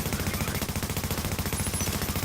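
Hip-fired automatic gunfire in The Division rattles in a rapid, evenly spaced stream of loud shots, close up and unbroken for the whole burst.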